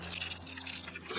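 Water poured into peat-based potting mix in a bucket for growing peppers, a soft steady trickle and splash lasting about a second, close and quiet, no talking.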